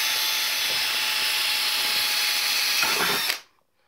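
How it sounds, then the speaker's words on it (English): A cordless battery drill fitted with a 4 mm bit bores holes in metal, its steady high whine running loud and close for over three seconds before cutting off abruptly. "Now, we're using a battery drill"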